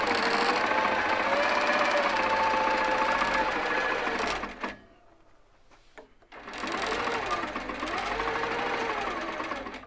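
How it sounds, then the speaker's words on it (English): A sewing machine basting a fabric square over batting at 5 stitches per inch runs in loud, steady bursts, pauses for about two seconds near the middle, then stitches on. "I baste at 5 stitches an inch, because I like to stop needle down."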